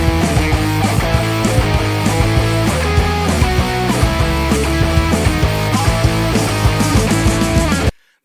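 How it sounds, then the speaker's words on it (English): Heavily distorted electric guitar strums pop punk octave chords, the string between muted, in a loud, steady rhythmic pattern that cuts off abruptly at the end. "I'm going to jump up to another level of distortion here, is where we bring in the octave chords."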